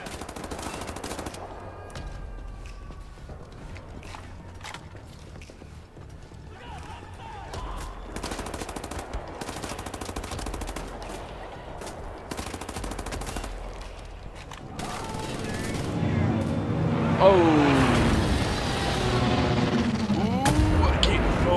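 Gunfire rattles in the Wolfenstein video game: rapid, sustained bursts and shots that build into denser, louder fire with blasts near the end, heard close and without talk.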